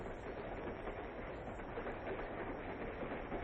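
A train speeding along, a steady, faint rumble of rolling wheels and carriage noise, continuous and even from start to finish with no voices.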